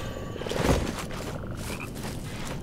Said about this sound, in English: Is that a poison frog?